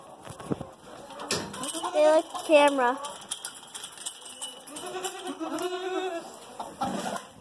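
Goats on a farm bleat several times at close range, their wavering cries rising over a person talking and faint background rustling.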